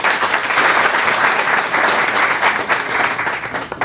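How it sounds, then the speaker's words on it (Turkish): Audience applause at a Champions League tournament event, a loud, steady roar of many clapping hands that fades slightly toward the end. "Alkış alalım bu vesileyle"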